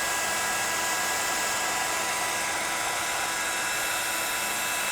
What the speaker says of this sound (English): we're going to heat set that now, and we're just going to take our time going over the top to heat set that clear embossing powder